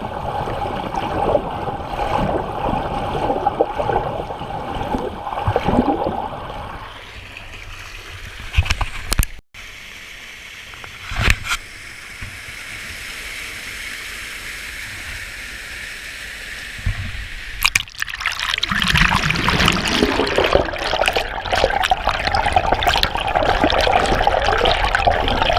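River water in the Shenandoah Valley rushing over rocks where the current runs fast, a loud continuous splashing flow that drops away for a stretch in the middle before surging back up, with no talking.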